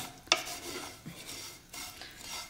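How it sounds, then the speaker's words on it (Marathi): Vermicelli stirred while dry-roasting in a pan, giving soft scraping and rustling strokes with one sharp metallic clink near the start, close but quiet. "ह्या शेवया पटकन भाजल्या जातात, त्यामुळे कंटिन्यू हलवत शेवया आपण भाजून घेणार आहे"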